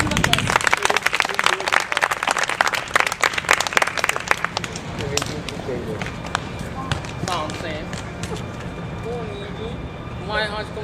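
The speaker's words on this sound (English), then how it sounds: "Please start them off with a round of applause." An audience at a live stage show breaks into brisk, dense clapping that gradually thins and fades as a voice begins speaking over it.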